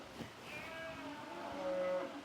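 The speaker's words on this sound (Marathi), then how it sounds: "अहो आपल्या घरच्याच म्हशी आहेत." Domestic household buffaloes low in a drawn-out, wavering moo, fairly faint and somewhat distant, with no talk over it.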